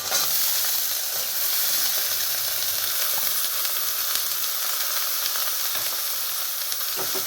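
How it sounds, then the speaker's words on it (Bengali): Eggplant pieces frying in a pan for a dish of bathua greens, giving a steady, close, continuous sizzle and crackle with no talking. "আমার বেগুনটা ভাজা হচ্ছে"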